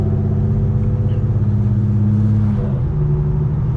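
Modified Infiniti G37 engine rumbles and revs steadily while driving, a loud, close, continuous low drone with a pitch shift near the end.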